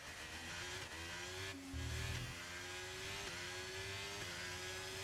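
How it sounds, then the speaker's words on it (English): In the F1 23 racing game around a hairpin in Canada, a car engine drones and shifts pitch, briefly dropping and stumbling as if stalling before picking back up, fairly quiet and steady with no talk. "it sounds like the engine stalls out, like right here"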